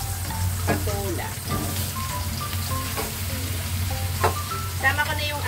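Patola (luffa) with clams sautés in a pan, giving a steady close sizzle with occasional stirring scrapes while a voice murmurs faintly underneath.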